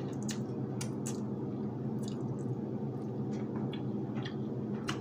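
Someone eating Nongshim Soon ramen noodles, with repeated wet squishy chewing and slurping clicks close to the mic against a low steady background hum, no talking.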